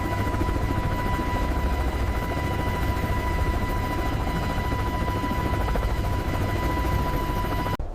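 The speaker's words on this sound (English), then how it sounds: "Behind them, 2 HH-60 Pavehawk helicopters flew low across the terrain." Two HH-60 Pave Hawk helicopters flying low over the terrain, a loud, continuous rotor and engine drone with a steady whine, uninterrupted until an abrupt cut at the end.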